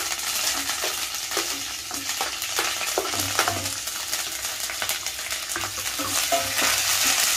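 Green chillies and curry leaves frying in hot oil for mango and raw coconut pulihora, a steady loud sizzle broken by repeated scraping stirs of a spoon in the pan, close up with no voices.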